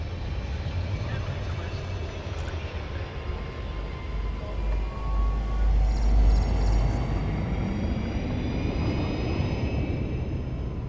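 A spacecraft engine from the game Elite Dangerous roars as a steady, dense drone with a deep low rumble. It swells slightly midway and carries faint high tones above it, with no one talking over it.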